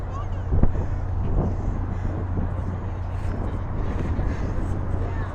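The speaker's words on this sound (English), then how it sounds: "It's fairly windy up on the top deck." Wind gusts across the top deck of a Gateway Clipper riverboat in Pittsburgh, buffeting the microphone with a low rumble over a steady engine hum, while someone talks through it.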